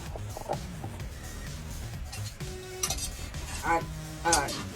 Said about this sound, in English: frying my shrimp